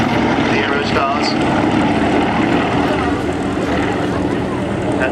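Yak-50 aerobatic propeller planes fly at an air show, their engines giving a loud, steady, rough drone that stays close and continuous throughout.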